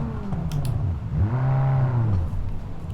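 A racing car engine in the video game BeamNG.drive revs up and whines at high pitch, holding a loud buzzing tone before dropping off, with a brief clatter near the start.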